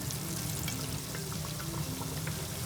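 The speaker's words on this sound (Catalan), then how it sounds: "començarem a fregir-los" Continuous soft sizzling and crackling of flour-dusted sardines frying in hot oil, steady and fairly quiet with occasional small pops.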